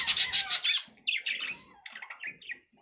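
A budgerigar chick squawks while having its feathers stroked: a run of harsh, scratchy chirps in quick bursts, loud and close at first, then softer, choppier calls before falling quiet.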